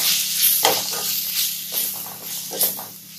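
Egg curry sizzling steadily in a pan as chili powder, coriander powder and garam masala are stirred in, a loud continuous hiss broken by a few scraping stirs.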